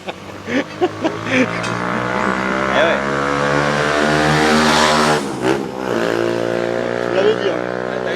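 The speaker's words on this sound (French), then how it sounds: "Il y a parfois des motos." A motorcycle engine drones and revs outside, a sustained mid-pitched hum under a French conversation between two men indoors.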